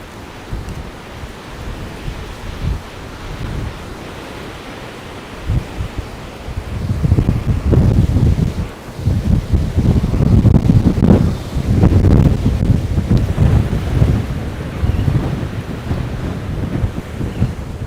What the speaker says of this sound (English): God, this wind's crazy.